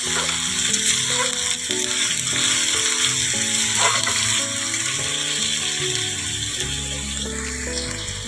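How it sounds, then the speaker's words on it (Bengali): Onion and tomato fry in a pan for a Bengali rui fish and potato curry, giving a steady close sizzle with occasional stirring, while background music plays and nobody speaks. "পেঁয়াজটা আর টামাটটা দিয়ে দিলাম ভালো করে একটু কষিয়ে নেব"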